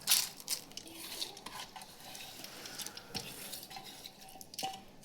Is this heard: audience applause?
no